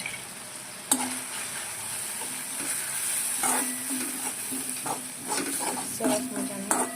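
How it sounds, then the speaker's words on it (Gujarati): Spicy garlic Maggi noodles with masala and chili flakes being stirred in a pan: a soft sizzle runs throughout, broken by several sharp scraping and clinking strokes of a utensil against the metal, with no talking. "સરસ મજાનું હલાવી દઈએ।"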